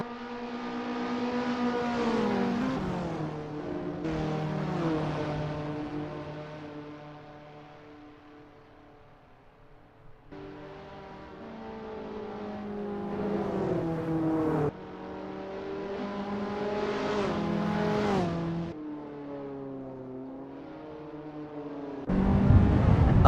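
Race car engines in an Assetto Corsa online sprint race at Virginia International Raceway whine loudly, with repeated accelerating revs and sharp gear-shift drops, and a couple of passes in the distance.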